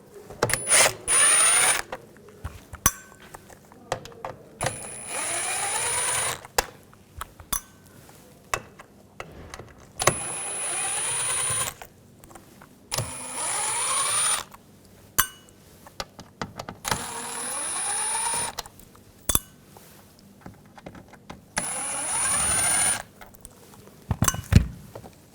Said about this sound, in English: Now we're going to take these screws out.